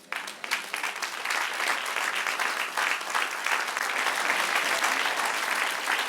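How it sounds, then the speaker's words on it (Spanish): Sustained applause from a church congregation, a dense, steady wash of many hands clapping that swells quickly and holds loud and even throughout, with no talking over it. "Denle un aplauso al Señor."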